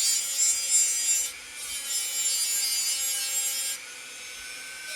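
A sandpaper head on a tool grinds steadily against a carved wood stump, a loud close hissing abrasion that shifts in pressure twice and eases slightly toward the end, with no talking.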